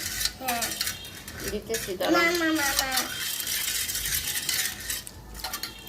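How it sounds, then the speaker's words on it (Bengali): A spoon clinks and scrapes against a glass while sugar is stirred into a drink, a run of rapid metallic taps and rattles, with a person talking briefly over it. "আরো চিনি আছে, গোলাইতে হবে। গোলাও, তুমি নাড়ো, তুমি নাড়াচাড়া দাও"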